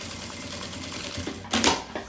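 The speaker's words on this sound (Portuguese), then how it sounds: "Vou passar aqui a costura." A sewing machine stitches seams on a travel toiletry organizer bag of synthetic fabric and plastic, running as a steady low mechanical hum with a louder, faster burst of stitching near the end.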